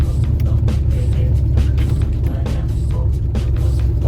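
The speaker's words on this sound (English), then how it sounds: "It's a little tough with the plow on the front of the truck going through the woods." A truck with a plow on the front driving through bumpy woods, a continuous low engine rumble with repeated knocks and thumps from the rough ground, close and steady with no talk.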